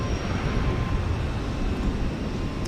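An Airbus A320 airliner on flight 374 out of Houston Intercontinental, its steady low jet rumble holding constant and fairly loud throughout, with no one speaking.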